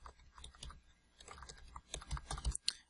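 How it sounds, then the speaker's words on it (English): Someone types a website address on a computer keyboard, a fast, irregular run of soft clicking keystrokes heard up close at low volume with no talking. "so let me type it in"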